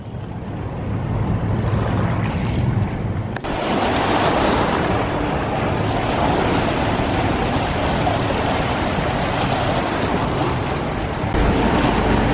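River waves washing along the Thames foreshore in London, a loud, continuous broadband rush mixed with gusty wind on the microphone, with no speech.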